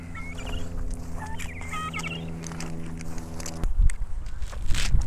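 Chickens on pasture near a greenhouse, with guinea fowl about, give a run of soft clucks and chirps over a low steady hum, followed by louder rustling footsteps near the end.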